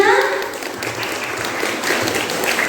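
A school audience at a junior high student council election debate applauds a candidate with a continuous, even wash of clapping at moderate loudness.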